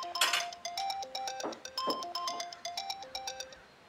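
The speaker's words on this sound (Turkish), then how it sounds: "Telefon çalıyor." A telephone rings with a bright, repeating electronic melody of quick chiming notes, close and clear, lasting a few seconds without talk.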